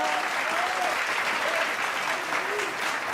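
An audience at a poetry recital claps steadily and densely for about three seconds, close and sustained, with no break.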